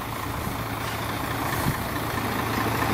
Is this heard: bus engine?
yes